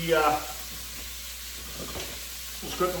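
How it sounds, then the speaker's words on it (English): Carrots, celery, onions, leek and garlic fry in a pan for beef short ribs, a soft steady sizzle with a brief clatter of stirring at the start and end. "fire in my carrots, celery, onions, and a little bit of leek. We're just going to get that in there."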